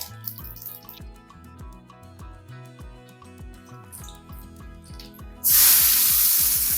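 Mustard seeds and urad dal hit hot oil for tempering an onion chutney, bursting into a sudden loud, steady sizzle near the end after a stretch of rhythmic background music.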